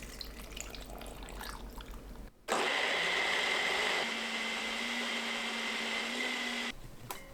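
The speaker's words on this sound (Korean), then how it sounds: "믹서에 생강, 물 400ml 넣고 곱게 갈아주세요." A kitchen blender grinding sliced ginger with 400 ml of water, starting abruptly after a quieter stretch and running as a loud, steady roaring whir for several seconds before cutting off.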